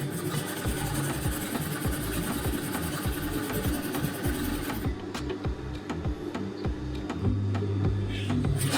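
A sewing machine stitches fabric for a wrap dress in a quick, even run of mechanical clicks and motor hum that stops and starts again near the end.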